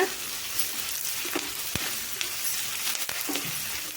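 Onions frying lightly in a pan for a weight-loss dish, a steady close sizzle throughout with a few faint stirring scrapes and clinks, no talking.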